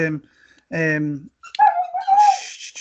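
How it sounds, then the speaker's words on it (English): A dog barking and whining indoors, a couple of sharp barks followed by higher whimpering yips, close and loud, with a person talking alongside. "dog, be quiet"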